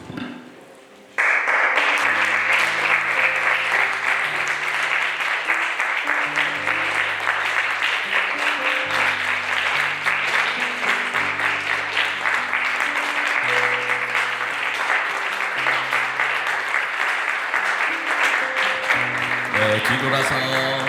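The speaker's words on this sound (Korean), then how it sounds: "받을 때 기쁨으로 또 박수로 해주시면 감사하겠습니다" Church congregation applause during a Sunday worship service, starting abruptly after a quiet moment and continuing as a steady dense clapping over soft sustained keyboard chords for the rest of the stretch.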